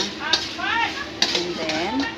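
A spatula stirs ground pork with tomato in a hot sizzling pan, scraping and clacking in short strokes, while a person talks over the cooking.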